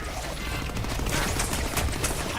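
Rapid gunfire bursts from the Deadpool video game, a dense continuous stream of shots with mechanical clatter, loud and close throughout.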